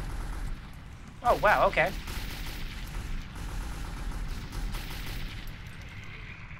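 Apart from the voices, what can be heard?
gunfire in the video game Metro 2033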